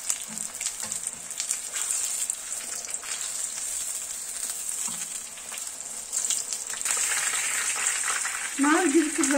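Eskişehir-style çi börek pastry, unleavened and puffed, frying in a small amount of oil, giving a steady soft sizzle throughout with brief faint handling noises and a louder bubbling burst near the end.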